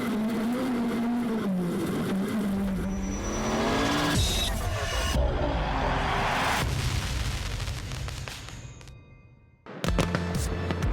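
Rallycross race car at the 2019 World Rallycross of Sweden in Höljes, its engine loud and close as the driver feathers the throttle out of a hairpin toward the finish line, ending in a brief near-silent gap and a sharp burst.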